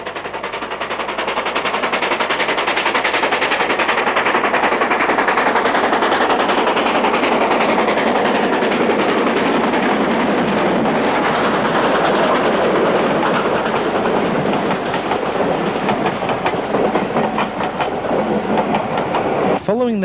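A double-headed steam train on the North Yorkshire Moors Railway labours up a heavy gradient toward the summit, a loud continuous roar of exhaust and rolling wheels filling the whole stretch, steady throughout.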